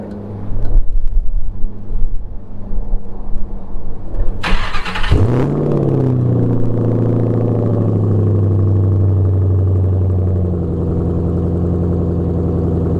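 A Mustang engine with a twin throttle body cranks and catches with a sharp burst, then settles into a steady, loud idle that holds to the end.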